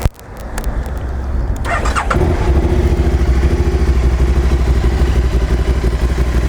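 A Can-Am Spyder RS-SM5 with 5,551 miles: a few mechanical clicks, then the starter cranks and the engine catches about two seconds in, settling into a loud, steady, close idle with a rapid pulsing beat.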